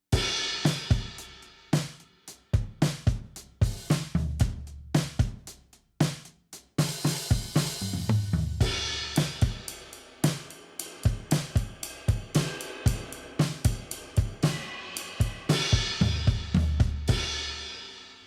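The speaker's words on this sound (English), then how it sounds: "this is what the Favorite Kit Air sounds like" Favorite Kit Air drum preset in Logic, played in an indie folk style: a roomy acoustic kit groove of punchy kicks and snares with cymbal wash, steady and upfront, no voices.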